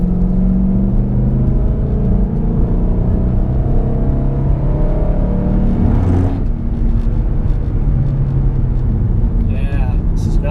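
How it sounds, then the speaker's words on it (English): A heavy, fully stock 2012 Mustang GT climbs tight mountain roads, its engine droning and labouring steadily from inside the cabin, with rising and falling pitch as it works uphill and a few brief clicks near the end. "Going all uphill now, so it's a lot of work for the car."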